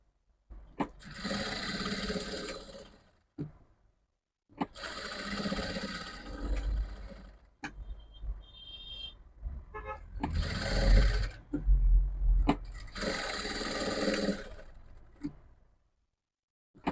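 A sewing machine double-stitches a blouse in four bursts of rapid whirring and ticking, each lasting a few seconds, separated by short pauses with quieter handling noises in between.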